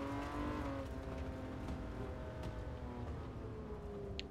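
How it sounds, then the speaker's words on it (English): Race cars in GT Sport roar past at a circuit, a continuous layered engine drone with shifting pitch as cars go by, moderately loud and steady without talk. "I'm just taking in all the sights and sounds, especially with the cars coming past"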